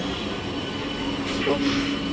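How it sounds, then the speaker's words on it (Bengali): Inside a Howrah–Bardhaman local passenger train while it runs, a steady, loud rumble of wheels and carriage noise fills the whole stretch, with a brief rising squeal and some voices mixed in. "এই ট্রেনটায় আসলাম আমরা বাবা হাওড়া থেকে বর্ধমানে লোকাল"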